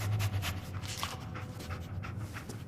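Dogmeat, the dog in Fallout 4, pants in quick, rhythmic breaths, close and clear throughout a short stretch with no speech over it.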